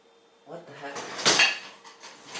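Rummaging through a kitchen drawer for a spatula: utensils clatter and scrape for a couple of seconds, close and fairly loud, following a short stretch of talk.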